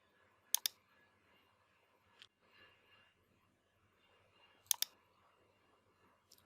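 Two sharp, quiet double clicks of a computer mouse pressing an activate button in video repair software, spaced a few seconds apart over faint background hiss.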